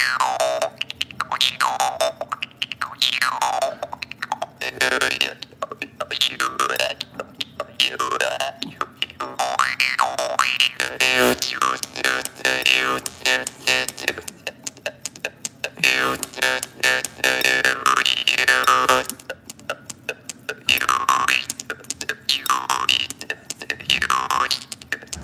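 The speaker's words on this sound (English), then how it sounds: "where you place your finger on the reed so it gives it a sound like this." A mouth harp played with a finger resting on the reed, giving continuous twangy, wobbling boings over about 25 seconds, close and steady without a break.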